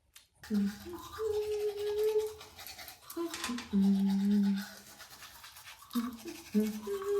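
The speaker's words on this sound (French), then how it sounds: "je suis allée me brosser les dents, vous venez de le voir" A toothbrush scrubbing teeth up close in steady back-and-forth bursts, with brief pauses between strokes and no other sounds.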